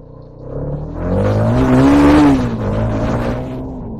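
A modified Hero Karizma XMR motorcycle accelerating hard in second gear, its engine note rising to a loud, close, steady roar and then easing slightly as it holds speed.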